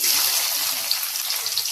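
Lassi poured steadily at close range, a continuous splashing liquid hiss that keeps an even level for the whole short stretch.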